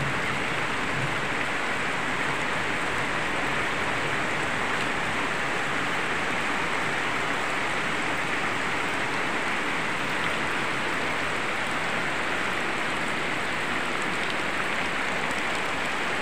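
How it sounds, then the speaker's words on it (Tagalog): Dense, steady typhoon rain pouring down without letup, a loud continuous hiss with no voices. "Malakas yung ulan."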